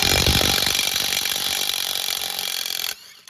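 A REAIM cordless impact wrench loosening a nut, a loud, steady buzzing whir with rapid hammering pulses that gradually fades before cutting off abruptly near the end.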